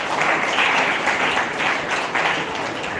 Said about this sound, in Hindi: जोरदार तालियां इन लोगों के लिए।